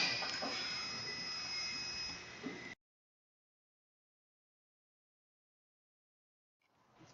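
Buzzer alarm from a 3D-printed lighthouse prototype fitted with an infrared sensor and LEDs, a steady high electronic tone lasting almost three seconds before cutting out abruptly, followed by silence and a faint hiss.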